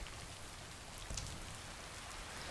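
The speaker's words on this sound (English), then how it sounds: "I love the sound of rain." Steady, dense rainfall in the video game Lake hisses evenly throughout, a constant wash of falling rain with no voices.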